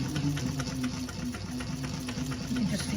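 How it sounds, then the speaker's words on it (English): A sewing machine runs steadily while top stitching a tote bag, its motor giving a continuous mid-pitched hum with a quick rhythmic pulse of the needle, close and even throughout. "So I'm going to top stitch."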